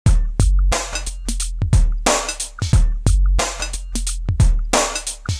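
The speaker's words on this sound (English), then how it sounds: "Muted, I have the drum loop, but now without the beat." A steady, punchy drum loop repeats with booming kicks and crisp snares in a regular pattern, loud and upfront with no voices.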